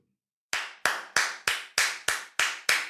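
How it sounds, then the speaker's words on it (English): A man's hand claps, eight sharp slaps in an even, steady rhythm after half a second of silence, close and loud, with no talking over them. "I have to pause and clap."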